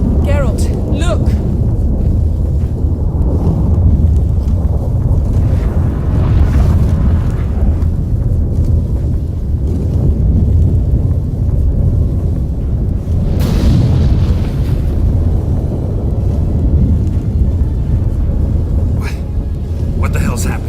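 Stormy rumble with thunder and wind during a cutscene in The Witcher 3, a steady loud low roar throughout with brief brighter crashes, and voices talking over it.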